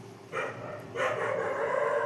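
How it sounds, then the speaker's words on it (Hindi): Dog barking at night in a Himalayan neighbourhood, two fairly faint bursts at a distance, the second longer and more sustained, over a steady background hum. "कुत्ता का आवाज स्पष्ट सुनाई दे रहा होगा"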